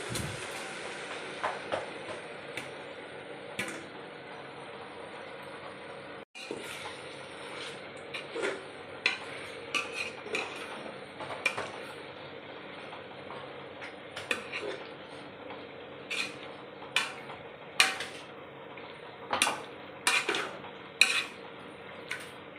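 Tomatoes being fried for menthya bath, with a faint sizzle under repeated clinks and scrapes of a utensil stirring against the pan, irregular and close.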